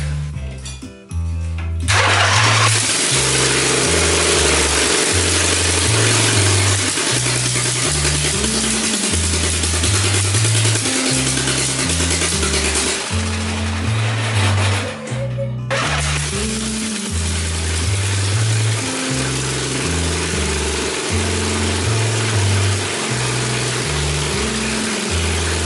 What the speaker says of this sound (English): This will be the first startup with the boom tube exhaust.